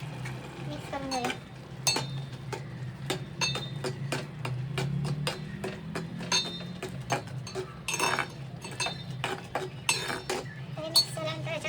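Spices being mixed into a pan, with rapid, uneven metallic clinks and scrapes of a spoon against the pan over a low steady sizzle, close and busy throughout, no voices.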